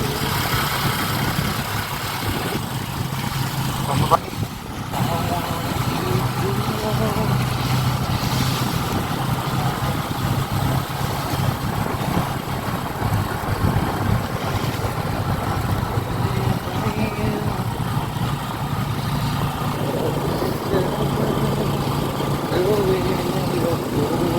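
A motorcycle engine idles steadily with a low, continuous rumble for the whole stretch, while people talk faintly in the background.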